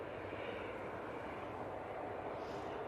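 Distant Ryanair airliners on approach to Manchester Airport give off a faint, steady jet engine roar with a broad, hissing wash of sound.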